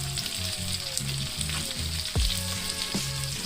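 Beef short rib frying in a hot pan with onions and jalapenos added on top, a steady close sizzle with a faint rhythmic background hum and one brief scrape of stirring.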